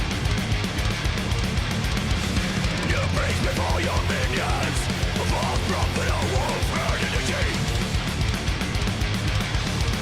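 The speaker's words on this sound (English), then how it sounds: "This is that old school metal" Dense, loud metal music with driving drums and distorted guitars plays continuously, with no pauses.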